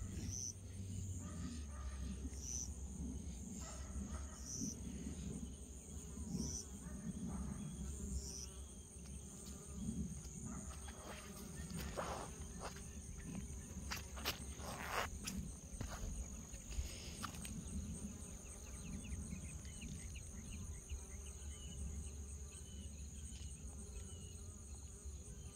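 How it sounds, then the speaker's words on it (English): Bees swarming over catnip plants in a garden, a faint steady buzzing mixed with constant insect chirring, quiet and continuous throughout. "Bees is enjoying it."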